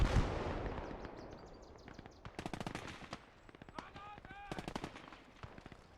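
MP40 submachine gun fire in the Gates of Hell war game, rapid bursts of automatic shots with brief gaps, layered with distant gunfire and battle noise.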